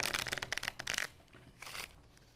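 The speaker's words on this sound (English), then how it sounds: "So there's a bridge shuffle." A brand-new deck of playing cards is bridge-shuffled, giving a quick fluttering riffle of crisp card clicks, then a short softer cascade as the cards settle, heard up close.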